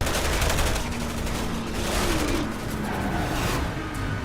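Rapid gunfire from a Resident Evil video game, a dense, steady barrage of shots filling the whole stretch at close range with no talk over it.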